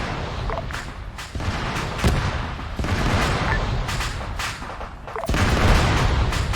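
Rapid bursts of ammunition cooking off inside a vehicle in the Arma 3 military game, loud, dense crackling gunfire and booms rolling continuously with short gaps, a muffled voice faintly underneath.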